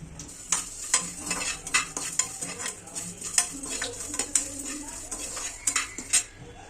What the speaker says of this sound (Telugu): ఆవాలు స్పూను అంతే. ఇవన్నీ బాగా వేపించుకోవాలండి కొద్దిగా. అలాగే మెంతులు కూడా కొంచెం వేసుకోవాలి.